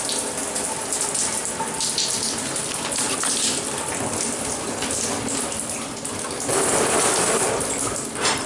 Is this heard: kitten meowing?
no